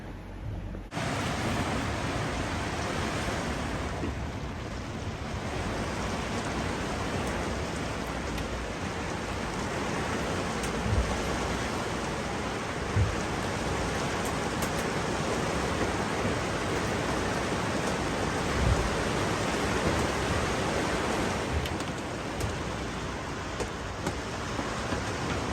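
Steady rain falls on a sailing yacht, SV Catmantoo, a dense, continuous hiss that stays even and fairly close for the whole stretch, with occasional heavier drop patters and no voices.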